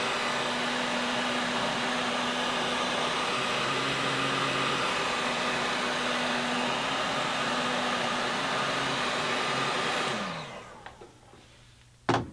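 Heat gun blowing hot air to shrink heat shrink tubing on a pair of glasses, a loud, steady fan whine and airy rush with a faint hum, winding down near the end before a brief clunk.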